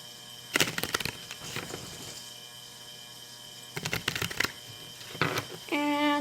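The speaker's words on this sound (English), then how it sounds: "Give them a ruffle shuffle." Playing cards are riffled in quick bursts of crisp fluttering clicks, several separate shuffles with quiet pauses between, over a low hum.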